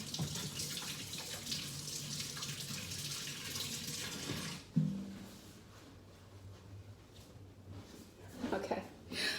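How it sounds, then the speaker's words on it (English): Tap water running over hands at a sink, a steady rushing hiss for about five seconds before a knock, then quieter trickling and splashing with faint movement toward the end. "let me wash my hands again"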